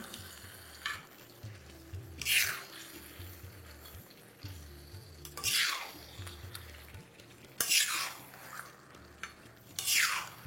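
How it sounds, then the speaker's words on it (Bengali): Mutton tawa fry gravy being stirred in a pan, with several scraping sweeps of the spoon cutting through a steady low sizzle, close and alone. "এবার একটু সাবধানে এটাকে এইভাবে মেশাতে থাকুন"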